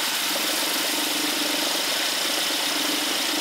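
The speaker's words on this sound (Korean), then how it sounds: "스탑앤고를 끄고 지금 공회전에서 이렇게 서 있으면 거의 진동이 없어요." A Mercedes-Benz S-Class W222 idles at a standstill with stop-and-go switched off, giving a steady, even engine hum with a broad airy hiss and no revving or rhythmic knocking throughout.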